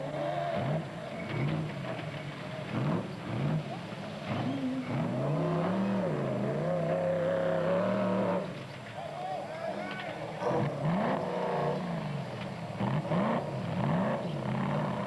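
A race car's engine revs high near a bridge during the Sun City 400 rally in 2006, rising and falling in loud, sustained surges up close, with commentary talk running over it.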